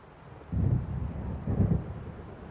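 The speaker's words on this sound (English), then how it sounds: "It seems there's a storm coming." In Alan Wake, an approaching storm brings steady blowing wind and two deep, rolling rumbles of thunder about a second apart, heavy and low, each fading back into the windy background.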